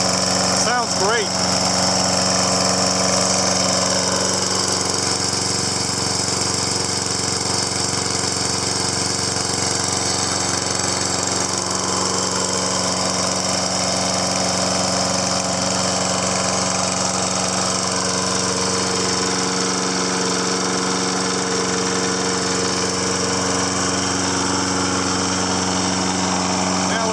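Toro Recycler 20370 lawn mower with a Kohler 6.75 engine running steadily at close range, a continuous throaty drone with mechanical clatter that holds throughout, with a brief louder start.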